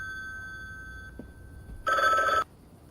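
A single loud burst of a ringing phone in the game The Book Walker cuts in after a quiet stretch of faint electronic tones, then stops abruptly.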